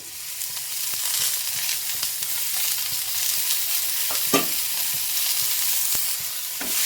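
Tomatoes sautéing in oil in a pan for Andhra-style pachadi, a steady close sizzle with occasional stirring scrapes and clinks, no talking.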